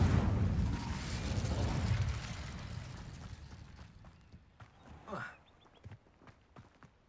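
A fire spell is cast in Hogwarts Legacy: a loud rumbling whoosh of flame that swells and then fades, followed by scattered impacts and a brief rising crackle.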